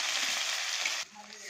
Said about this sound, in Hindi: तो मैं प्याज लहसुन मिर्ची साथ में ऐड कर दे रही हूँ। तड़का को अच्छे से भून लेना है।